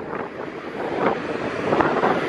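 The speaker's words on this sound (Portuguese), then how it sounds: "Eu esqueci que tá ventando." Gusty wind buffets the microphone, producing a rough, rumbling roar that swells and fades in uneven bursts, with no one speaking.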